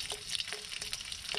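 Dalag, a snakehead fish, fries in hot oil with a busy crackling sizzle, close and steady, punctuated by small sharp pops.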